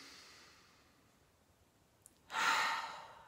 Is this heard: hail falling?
no